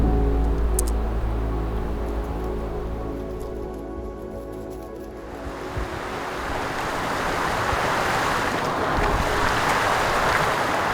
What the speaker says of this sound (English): take a pit stop next to the stream, eat a snack, and listen to the water